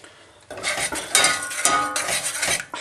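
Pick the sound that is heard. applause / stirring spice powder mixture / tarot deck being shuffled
stirring spice powder mixture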